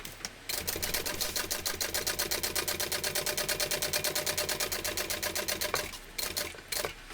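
A sewing machine stitches a convertible tote bag, running in one fast, even burst of rapid needle strokes for several seconds before slowing into a few final stitches and stopping.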